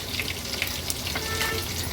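Crushed garlic cloves dropped into hot oil with crackling mustard seeds and cumin give a steady, close sizzle with light crackle, a short frying sound on its own with no voices.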